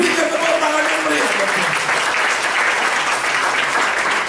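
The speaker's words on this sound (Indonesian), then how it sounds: "Berikan tepuk tangan yang meriah." Congregation applauding during an Indonesian Sunday evening church service, a steady, loud wash of clapping that fills the room throughout, with some voices mixed in early on.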